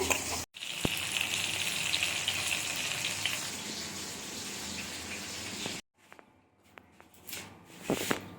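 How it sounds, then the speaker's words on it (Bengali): Two lemon-marinated fish frying in a pan for doi katla, a steady close sizzle running for several seconds, then a brief quiet gap followed by softer scattered crackles and clinks. "এখানে দুটো মাছ ভাজা হচ্ছে দুজনের জন্য"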